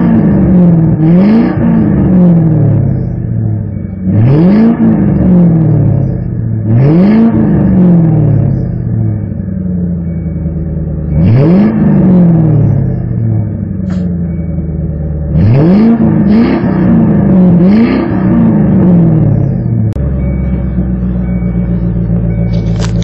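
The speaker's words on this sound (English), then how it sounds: "you can hear the rumble from the exhaust" A 1996 Lincoln Mark VIII's exhaust rumbles steadily and loudly, with repeated revs rising and falling roughly every few seconds over a deep continuous drone.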